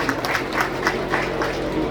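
An audience at a devotional bhajan evening claps for the program's host, a light, fairly rhythmic patter of hands heard for two seconds.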